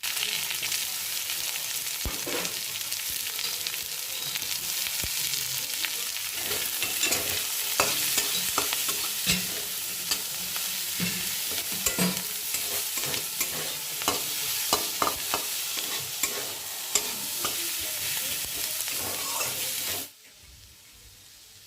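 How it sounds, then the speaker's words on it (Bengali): Cubed onion fries lightly in oil with cumin, a steady sizzle broken by frequent scraping and stirring clicks of a spatula in the pan, close and continuous until it stops suddenly. "সেই পেঁয়াজটা এবার হালকা করে ভেজে নেব"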